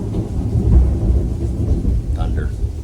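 Thunder rumbles low and heavy during a storm aboard the sailboat Kaya, a deep rolling boom peaking early then grumbling on, with faint rain-like hiss and brief voice traces above it.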